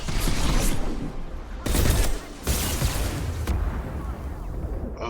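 A grenade in the video game Mass Effect 2 sets off a loud, rumbling run of blasts and crackling gunfire, with several sharp bursts in quick succession and a brief lull between them.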